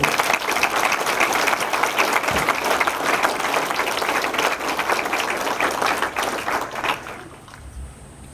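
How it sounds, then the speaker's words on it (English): Sustained applause from an outdoor crowd at a military change of command ceremony on a parade field, steady and dense for about seven seconds before fading out at the end. "So please join me in a round of applause for everyone on the parade field today."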